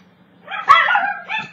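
A single dog gives a short, close yip-like bark, followed by a smaller second yelp.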